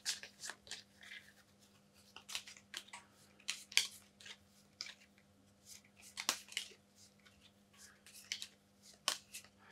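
Quiet, close riffling and snapping of a deck of cards being shuffled at a tabletop during a solo board game of Black Rose Wars: Rebirth, coming in short irregular bursts over a faint steady hum.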